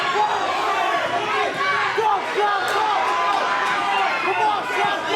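Loud, dense crowd roar at a boxing fight night between Salvador Sanchez and Manuel Reyes, with cheering and chatter swelling steadily and no break, close and enveloping.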